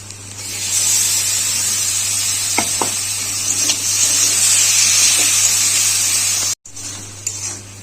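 Chopped tomato hits frying onions in a hot pan, setting off a loud, continuous hiss with a few sharp ticks and clatters, close by, before a brief cut near the end.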